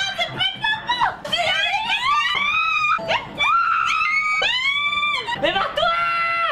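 A dog yelps and barks in high, whining bursts, loud and close, with rising and falling cries repeating over several seconds against a noisy outdoor background.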